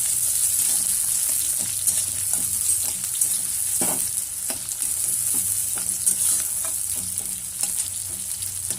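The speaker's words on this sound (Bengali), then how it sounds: "তো প্রথমে পেঁয়াজটা দেব, আর পুরোটা হাই ফ্লেমেই রান্না হবে" Chopped onion frying in oil over a high flame for homemade vegetable chow mein, giving a steady close sizzle with scattered clicks and scrapes from stirring and no voices.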